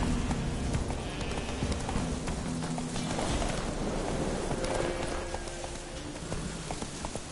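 A horse galloping in the game Witcher 3, with rapid, rhythmic hoofbeats pounding close and steady across the whole stretch over a faint wash of background noise.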